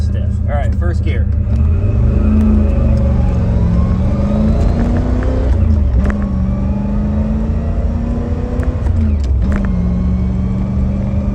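A Pontiac Trans Am with a 305 V8, cam and headers, pulls away in first gear with a loud, steady engine drone that climbs in pitch, heard close from inside the car.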